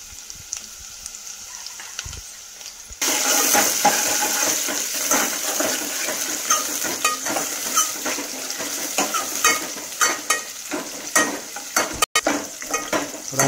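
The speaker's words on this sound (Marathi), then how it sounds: "लसूण टाकायचं. थोडा लाल होईपर्यंत त्याला परतवायचा." Garlic fried in a pan until it turns reddish, a Marathi home-style cooking step. After a quiet start, a loud, steady sizzle bursts in and continues, with frequent scraping and stirring clicks running through it.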